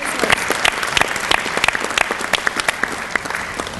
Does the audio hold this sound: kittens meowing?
no